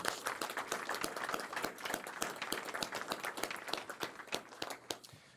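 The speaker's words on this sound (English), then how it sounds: "So let's give them a round of applause." Applause at a county board meeting, a room of people clapping steadily for several seconds before tapering off, a little distant and fairly quiet.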